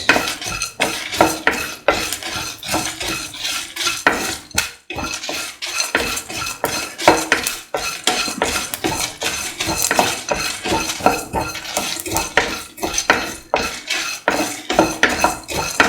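A utensil mixes salt into okra peanut stew in a metal pot, making dense, continuous clinking and scraping that stays loud and close throughout, with only faint sizzling beneath.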